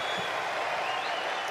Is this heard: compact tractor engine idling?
no